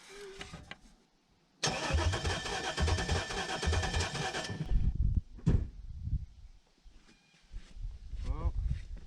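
A 6.0 LS V8 in a Silverado with an NV4500, left standing 12 years with a blown clutch, cranks over loudly on the starter for about three seconds without firing, between clunks and bumps. Voices talk before and after.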